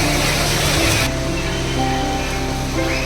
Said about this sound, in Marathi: पाऊस जोरातच पडता आता